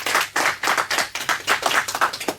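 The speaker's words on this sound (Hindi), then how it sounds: "एक बार जोरदार ताली हो जाए निष्ठा भारद्वाज के लिए" A quiz show audience applauds a junior contestant's win, a close, energetic run of rhythmic hand claps from a small crowd, with no voices over it.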